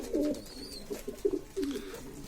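Homing pigeons coo in a loft where most of the birds are sitting on chicks, giving several soft, low, throaty calls in short bursts close by, with no talking.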